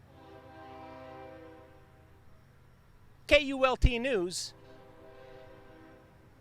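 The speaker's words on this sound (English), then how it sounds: "That damn train." A train passes through Marion, Ohio, its horn blaring in a loud, wavering burst over a low, steady rail rumble, with a voice speaking nearby.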